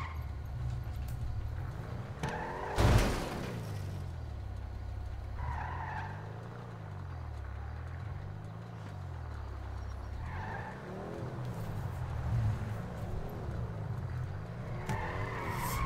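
A car in the FiveM video game drives with a wavering engine whine rising and falling, broken by a sharp loud skid early on and a few more tire squeals later, under a quiet, constant background.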